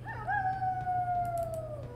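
A dog howls in Warcraft 3: Reforged, one long, close wavering howl that slides slowly downward over about two seconds, heard alone over a low game hum.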